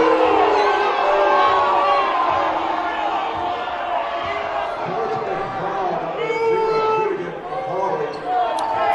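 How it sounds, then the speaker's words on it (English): Home basketball crowd in a high school gym grumbling and jeering after a foul call, a loud sustained mass of voices with scattered shouts and whistles, close and continuous. "As you heard the reaction from this home crowd, not happy."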